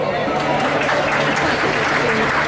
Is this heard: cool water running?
no